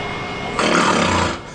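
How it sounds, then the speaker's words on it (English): A person's snoring gives one loud, rough inhaled snore in the middle, rising abruptly and fading out, with quiet breathing before and after. "So snoring is really a very prevalent problem."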